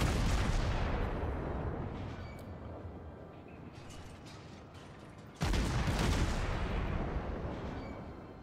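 Warship guns in World of Warships, a German cruiser Nürnberg, fire in booming salvos: a big blast at the start rolls off into a long fading rumble, then a second heavy salvo hits with the same fading tail.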